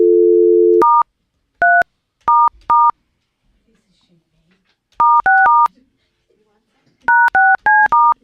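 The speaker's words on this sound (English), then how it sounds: "we don't even know how to dial out on this phone" A telephone keypad: a steady dial tone first, then short, loud, close dialing beeps that come singly and in quick clusters with brief silences between.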